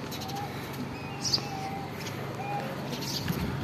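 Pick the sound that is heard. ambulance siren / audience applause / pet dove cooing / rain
pet dove cooing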